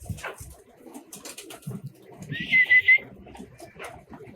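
A pigeon, one bird picked out among others behind a ledge, gives a short clear call midway, set against low background chatter and outdoor noise.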